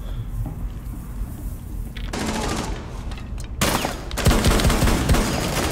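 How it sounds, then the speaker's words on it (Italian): Continuous gunfire in Rainbow Six Siege, with bursts of shots building in intensity and density toward the end, loud and close. "Attenzione, sta sparando a manetta"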